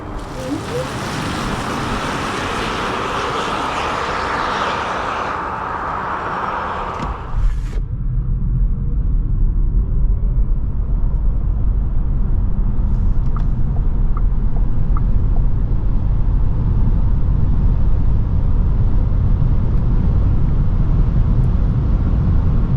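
A CUPRA Born eBoost electric car with 231 hp accelerates hard toward its 160 km/h limit, heard from inside as a loud, continuous low road and wind rumble that shifts character partway through, with no engine note.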